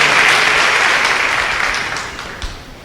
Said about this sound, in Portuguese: Dê uma salva de palmas bem forte ao Senhor Jesus